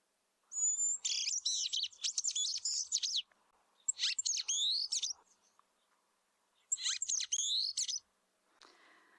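A shaft-tailed whydah call is played back as bursts of high, rapid chirps and buzzy twittering phrases in three groups, separated by short silences, with no talking.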